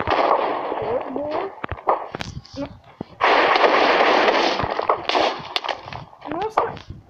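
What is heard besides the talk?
Minecraft Wither boss firing explosive skulls, video game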